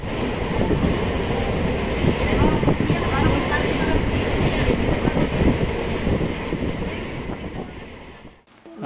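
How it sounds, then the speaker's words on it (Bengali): Steady rumble and rattle inside a moving passenger train on a journey toward Kolkata, continuous and fairly loud with faint clickety-clack, fading out at the very end. "আমরা এখন ট্রেনে যাচ্ছি"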